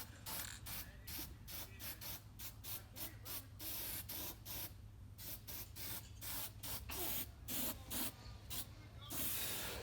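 An aerosol can of white spray paint hisses in a rapid series of short bursts onto a BMW E36 car, sputtering on and off close by with steady background noise underneath.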